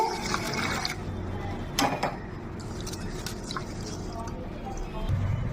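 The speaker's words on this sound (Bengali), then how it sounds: "ডালটা আমি প্রথমে ধুয়ে নেব" Moong dal being washed in water, with sloshing, dripping and swirling sounds from a bowl at close range and a louder splash partway through, all under a steady kitchen background.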